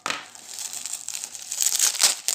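Plastic wrapping on a Happy Ants unboxing package crinkles and tears up close, a continuous rustling crackle that swells louder toward the end, with no voices.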